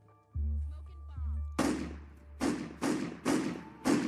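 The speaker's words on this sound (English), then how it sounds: "And then 5 gunshots ring out." Five sharp handgun shots ring out in an uneven rhythm, each a loud crack with a short decaying tail, preceded by low rumbling thuds and faint voices.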